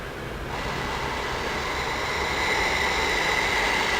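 A PVC welding machine's heat gun blows hot air in a loud, continuous whoosh with a faint whining fan tone. It swells after the first half second and then holds steady, with no talking.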